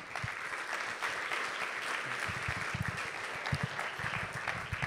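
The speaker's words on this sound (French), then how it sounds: "Je vous propose d'ailleurs de les applaudir pour qu'ils nous rejoignent dès maintenant." A conference audience at a round-table session applauds to welcome the panelists to the stage, a sustained wash of many hands clapping at an even level from start to finish.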